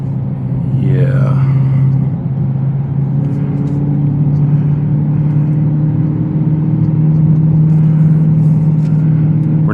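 Dodge Charger Hellcat Widebody engine as a steady, loud low rumble heard from inside the car, with a brief rise in revs early on and people talking over it.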